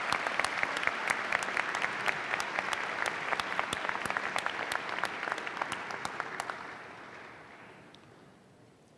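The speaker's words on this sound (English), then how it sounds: "thank them for your support with a round of applause of your own" Applause at an engineering college commencement ceremony: a large crowd claps steadily with a few sharp, prominent nearby claps standing out, then the sound thins and fades away over the last seconds.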